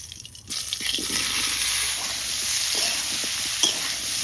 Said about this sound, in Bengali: এবার ভাপানো এঁচড় ভেজে নেবো।